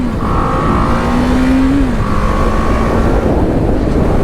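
A 2020 BMW G310GS adventure motorcycle engine, fitted with an Akrapovic exhaust, drones loudly up close, its pitch climbing briefly as it revs, then dropping back to a steady hum.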